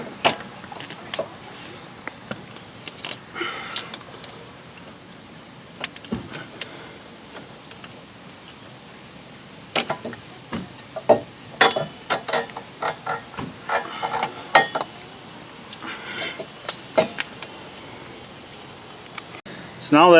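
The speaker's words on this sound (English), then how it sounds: "Now you can push the axle through and wiggle it around, get it free from the knuckle" Metal clunks, scrapes and knocks come in irregular bursts as a Ford Escape front CV axle is pushed and wiggled loose from the steering knuckle, close up with quieter stretches between.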